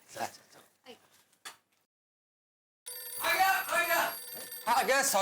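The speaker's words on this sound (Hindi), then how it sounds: "मैं अय्यर को एक बार फिर से फोन कर लेती हूँ।" A telephone rings loudly in repeated electronic bursts after a pause, following a few short spoken words.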